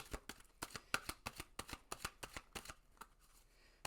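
Tarot cards being shuffled and drawn, giving a quick, steady run of crisp papery flicks and snaps, close and fairly quiet, with a brief pause near the end.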